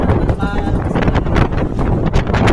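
Strong wind buffets the microphone in continuous rumbling gusts at Paritutu Centennial Park, New Plymouth, New Zealand, with a person talking underneath.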